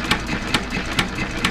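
A United 2.5HP hit-and-miss engine runs slowly with a spring off its governor weights, giving sharp, evenly spaced firing beats about every half second over a continuous mechanical clatter, close and alone.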